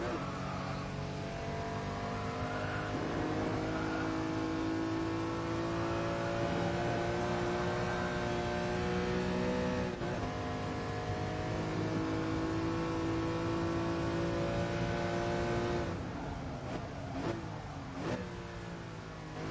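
A road car's engine in the racing game Gran Turismo Sport holds a steady, droning rev with a harsh, rattly tone, easing briefly and then returning, with short blips and dips near the end.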